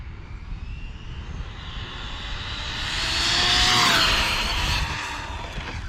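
An HPI Maverick RC car with a 2900 kV Poseidon motor on 4S power makes a high-speed pass, its electric whine swelling as it nears and fading as it moves away over steady outdoor background noise.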